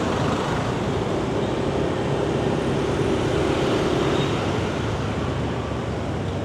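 Steady, dense street traffic roar in Binh Chanh District, Ho Chi Minh City, Vietnam, a continuous loud wash of engines and road noise with no breaks.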